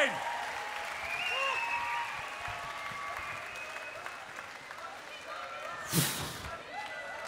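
A festival audience claps and cheers in a sustained burst, with voices mixed in and a sharp thump partway through.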